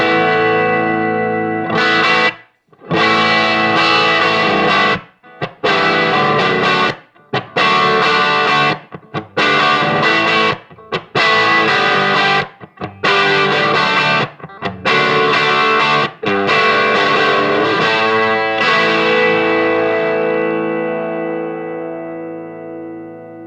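An electric guitar plays straight into a vintage Magnatone M9 amp turned all the way up with the reverb off, giving a loud, gritty tone. Chords are struck hard and briefly cut off between hits, and the last one rings out to a long fading sustain.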